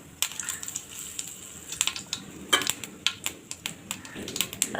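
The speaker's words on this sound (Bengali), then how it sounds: "এখন তেলের মধ্যে দিয়ে দেব গোটা জিরে ফোড়ন" Whole white cumin seeds popping and crackling in hot oil, a rapid irregular run of sharp close-up pops and ticks over a soft steady hiss, no talking.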